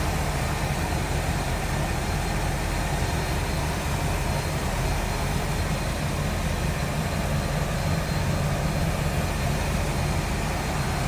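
A 1966 Buick Wildcat convertible with its engine running, giving a steady, dense rumble that stays even from start to finish with no voices over it.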